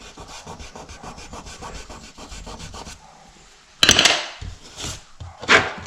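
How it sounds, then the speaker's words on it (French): A jigsaw cutting laminate flooring makes a rapid rhythmic sawing buzz for about three seconds, then a pause and louder scraping, knocking bursts of board being cut and handled nearby. "Donc là, je le fais à la scie sauteuse, bien sûr."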